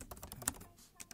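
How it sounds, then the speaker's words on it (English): Rapid typing on the Magic Keyboard of a 13-inch M1 MacBook Pro, a quick run of soft, close key taps with one sharper click partway through and a brief pause before the last few strokes. "I want to type something here"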